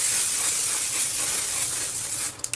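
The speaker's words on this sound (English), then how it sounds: "The final touch to this is obviously going to be the mattifying waterproof setting spray" Mattifying waterproof makeup setting spray mists out in a steady, close hiss lasting over two seconds, then stops with a few faint clicks.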